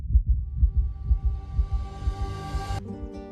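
A racing heartbeat sound effect thumps in fast, steady low pulses, loud and alone, with a rising tonal swell building over it before cutting off near the end.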